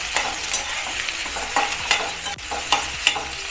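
Onion sautés in oil for a Maharashtrian onion-coconut masala paste, with a close sizzle broken by repeated spatula scrapes and taps at an irregular, quick pace.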